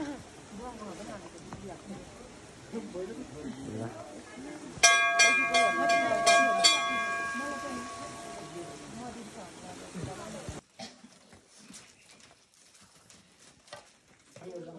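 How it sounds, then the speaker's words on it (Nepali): Steady rain patters in the background while people talk over it, with a brief sharp metallic ringing midway. "पानी पर्न थाल्यो"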